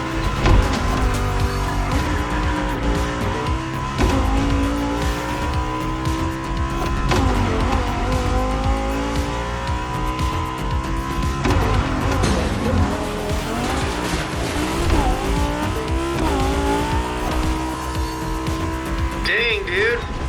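Expensive race cars roaring through The Crew Motorfest, a continuous loud engine drone with rising and falling revs, gear shifts and tire squeals, with a voice speaking over the racing.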